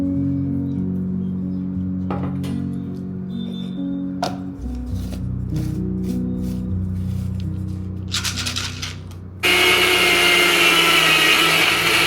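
Electric grinder in a home kitchen grinding dry fruit peels, a low motor hum with intermittent clattering knocks, then a sudden loud high whirring surge near the end, heard without talk.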